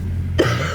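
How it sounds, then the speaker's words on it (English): A single harsh cough bursts out close to the microphone after a stretch of low steady hum, followed by a short rough exhale. "Currently still have cough right now"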